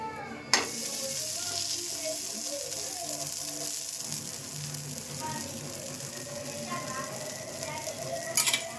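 Rayalaseema kaaram dosa sizzles steadily in oil on a hot pan, a continuous close crackle and hiss with a few faint clinks, no talking.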